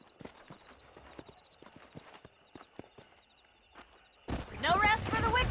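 Horse hooves clip-clopping in Red Dead Redemption, a steady run of light hoof knocks with faint jingling, before a voice starts talking over the last second.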